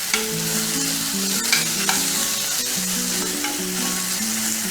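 Chopped rosemary is stirred into mushrooms and shallots sizzling in a pan, a steady close frying hiss with light scraping stirs, under soft background music.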